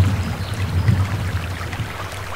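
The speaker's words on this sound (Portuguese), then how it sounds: "Cai na cachoeira de sangue." A waterfall of blood in the game Alice Madness Returns gives a steady, rushing low pour with a constant churning hum, continuous and unbroken throughout.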